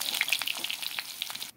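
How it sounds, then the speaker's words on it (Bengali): Potatoes for a meat curry sizzle as they fry in hot oil until reddish, a steady close crackle with scattered pops that stops abruptly near the end. "এখানে আমি মাংসের আলুটা একটু লাল লাল করে ভেজে নেব।"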